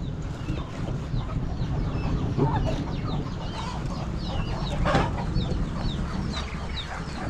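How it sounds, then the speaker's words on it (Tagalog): Many chickens cluck and chatter on a farm beside a laying house, a busy overlapping flock with scattered sharper calls, fairly close and steady throughout. "Ang dami manok, oh."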